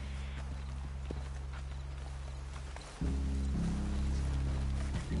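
Horse hooves in Red Dead Redemption 2, soft clip-clop steps over a steady low game hum that jumps louder midway, with a few sharper hoof knocks standing out.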